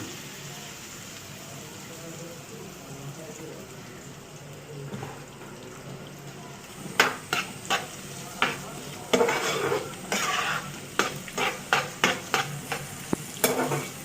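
Onion and green chillies frying in oil in a pan, a low steady sizzle that turns into loud, rhythmic scraping and stirring strokes in the second half, with a voice speaking now and then.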